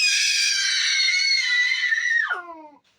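A baby lets out one long, loud, close scream that holds steady, then drops sharply in pitch and trails off into silence.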